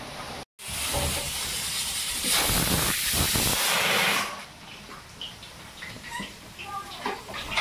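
Pressure cooker hissing with steam while paya soup cooks, a loud sustained rush that swells for several seconds, then drops to a fainter sputter with scattered small clicks.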